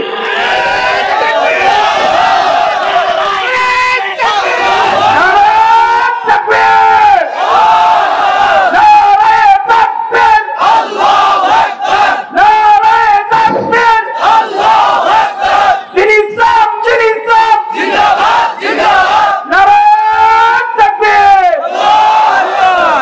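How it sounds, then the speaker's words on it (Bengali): A large rally crowd roars a repeated Takbir battle cry in loud, rhythmic call-and-response waves of massed voices that swell and drop without pause, close and overwhelming throughout. "আপনাদের ভিতরে একজন ইমানদার নারায়ে তাকবীর দিয়ে দেখাতে হবে।"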